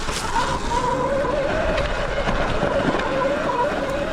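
Surron Light Bee electric dirt bike ridden at full throttle up a small singletrack hill climb, a steady whining motor drone with rushing wind and terrain noise, loud and continuous throughout.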